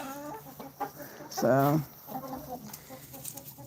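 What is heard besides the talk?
chickens clucking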